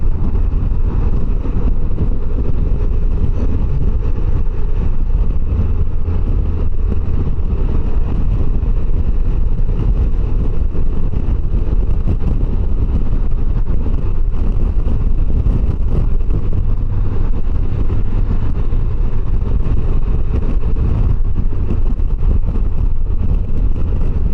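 A 2025 Can-Am Canyon engine droning steadily while riding, its constant loud hum blended with heavy wind buffeting over the microphone throughout, with no talk.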